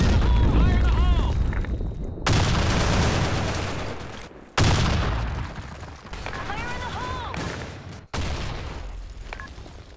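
Grenade blasts and gunfire in the video game Blackshot: loud, booming explosions cut in at intervals amid heavy shooting, with the sounds of a chaotic firefight and voices talking over the action.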